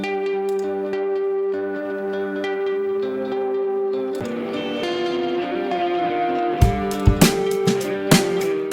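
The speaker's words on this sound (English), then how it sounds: "I've also used it on a guitar riff and some drums that I've recorded" A guitar riff with ringing, sustained notes plays, then sharp recorded drum hits come in near the end.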